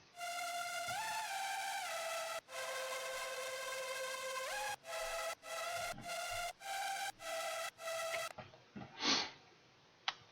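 Soloed Galaxy Lead synth preset from an Oversample preset pack, playing bright stacked chords with pitch bends, sustained notes then a run of short rhythmic stabs, ending in a noisy swell.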